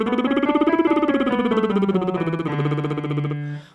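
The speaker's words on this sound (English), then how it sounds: "Yes, the lip trill. Sounds like this." Baritone lip trill warm-up: a buzzing, fluttering voiced trill glides downward in pitch, then holds a low sustained note before stopping abruptly, close and alone.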